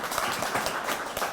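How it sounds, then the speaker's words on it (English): Audience applause for the parents attending a school event, a steady dense wash of clapping from a crowd held at even loudness throughout. "give your parents a big round of applause"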